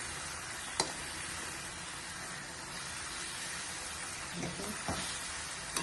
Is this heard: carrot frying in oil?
yes